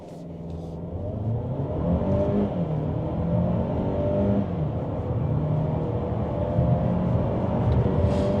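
An OMODA 5 SUV accelerates hard from a standstill to 60 mph, its engine note climbing and dropping through three gear changes in one continuous loud drone, with no talking.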